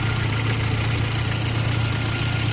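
A 1992 Volkswagen Golf 3 with a 1.8 engine runs with a steady, loud, close low hum and a constant throbbing idle character, with no rise in pitch and no talk.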